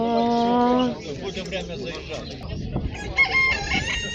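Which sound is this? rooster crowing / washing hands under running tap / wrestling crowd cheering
rooster crowing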